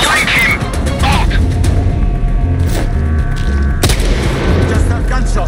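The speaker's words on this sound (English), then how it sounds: "Just have gunshots!" Gunfire in the sniper video game Sniper Ghost Warrior Contracts 2, a series of loud, booming shots and crashes in combat, with voices shouting over the din.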